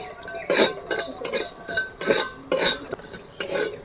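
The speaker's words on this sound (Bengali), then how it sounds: "গোটা জিরে, গোলমরিচ, লবণ, শুকনো কড়াতে ভেজে নেব।" Whole cumin, black pepper and salt dry-roasting in a hot wok, a spatula scraping and clinking against the metal in repeated strokes roughly every half second, close and fairly loud, with no talk.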